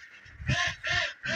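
Ducks kept as backyard pets give three loud, close, nasal quacks in quick succession, each a short harsh burst separated by brief pauses.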